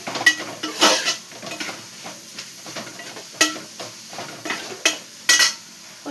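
A spatula or spoon scrapes and clinks against a pan as dried shrimp are stirred, a steady series of close metallic strokes and taps over a faint background sizzle.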